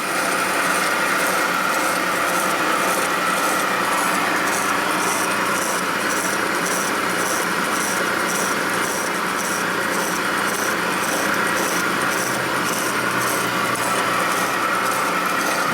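A slitting saw or hacksaw cuts metal in a workshop during a Harley Sportster XL 650cc single-cylinder land-speed engine build, giving a steady, loud, continuous grinding rasp that runs the whole time with no talk.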